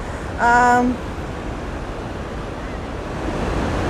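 Flowing water on a tour in Pakistan, a steady loud wash like surf or a rushing river with wind noise on the microphone, and a brief tonal sound near the start.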